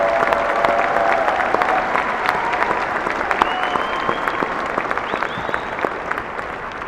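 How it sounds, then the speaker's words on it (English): A large commencement audience gives PhD candidates a sustained round of applause, a dense and even wash of many hands clapping for about seven seconds with little talk. "Let's give our PhD candidates one more round of applause."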